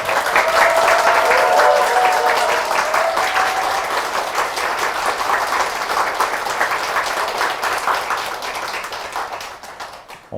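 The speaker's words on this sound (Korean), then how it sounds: "함성 소리가 약간 위험할 정도로 컸었어요" A large crowd at a Buddhist dharma service applauds loudly and steadily, with some cheering early on, the clapping gradually thinning out toward the end.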